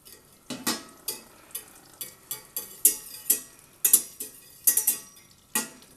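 A whisk scrapes and taps rhythmically in a pan, mixing flour into melted butter for a roux, each stroke a close, sharp clink-and-swish repeating about twice a second with no voices.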